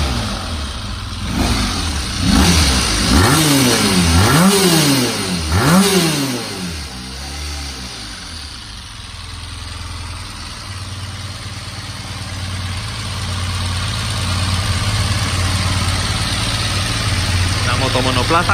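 A Honda RC30 VFR750R sport motorcycle engine catches and blips through several sharp revs in the opening seconds, then settles into a steady, loud idle rumble that carries on to the end.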